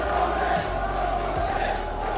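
Arena crowd at a Dota 2 esports semifinal cheering in a steady, loud roar that fills the space throughout, with a few swells and no clear voices standing out.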